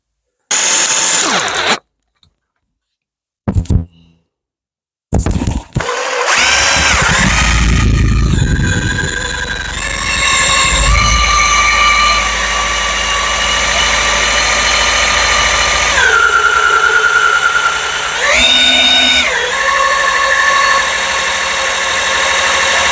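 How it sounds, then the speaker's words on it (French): A power drill bores a hole into a flat face of metal to make carp fishing leads. After a few short bursts and pauses, the drill whines steadily and loudly at close range, with its pitch shifting as it bites and then easing near the end. "un coup de pointeau et après on perce"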